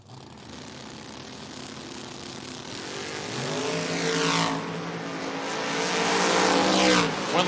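Drag racing at Door Wars, a Nova against the J Bros Chevelle: loud, high-revving engines roaring close by, with rising pitch sweeps as the cars launch and accelerate down the track, no talk.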